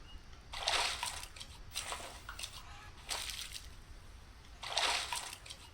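Splashing water from washing in the Green Hell jungle survival game, arriving in four separate sloshing bursts with quieter gaps between them and no voices.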